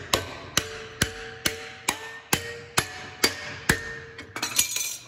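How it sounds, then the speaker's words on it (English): Hammer strikes on a welded metal piece joined with the keyhole full-penetration technique, about nine sharp ringing blows at a steady rhythm, close and loud, quickening into a rapid flurry at the end. "And we can just keep hammering it,"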